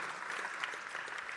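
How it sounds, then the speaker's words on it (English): An audience at a tech conference claps in sustained, dense applause after a talk with live demos, a steady even wash of many hands close and fairly loud throughout the brief moment. "a huge round of applause, please, my friend"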